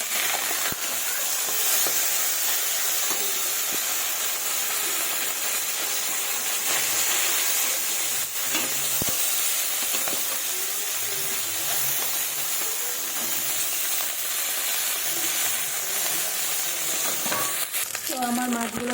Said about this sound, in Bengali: এবার মাছগুলোকে উল্টে দেবো।